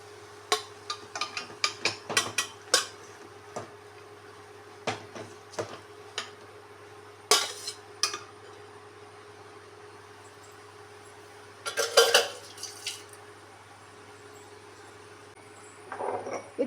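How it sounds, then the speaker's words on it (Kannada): Rice grains poured into a pan of fenugreek leaf pulao make scattered soft ticks and clatters, with a short dense rattle near the middle and another toward the end, heard close up with no talking. "ಈಗ ರೈಸನ್ನು ಆ್ಯಡ್ ಮಾಡ್ತಾ ಇದ್ದೇನೆ."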